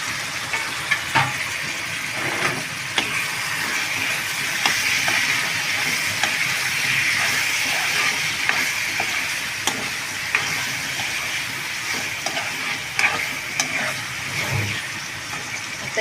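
Chopped tomatoes frying with onion in hot oil for an egg tikka masala, a steady, moderate sizzle with soft crackles and occasional stirring taps running throughout.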